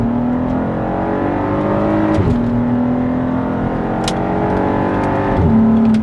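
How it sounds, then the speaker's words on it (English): A VW Passat R36 with a VR6 engine revs hard through the gears, smooth rising pitch climbing in two long pulls with brief drops at the shifts, loud and close. "VR6 noise. Listen to this."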